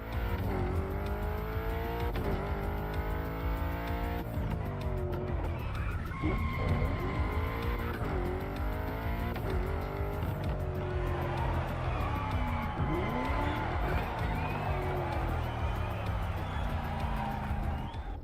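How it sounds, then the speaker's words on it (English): A Toyota Supra A80 Special Edition in the racing game The Crew Motorfest, its engine droning and shifting pitch with loud tire squeals and skids, continuous and close. "The Toyota Supra A80 Special Edition."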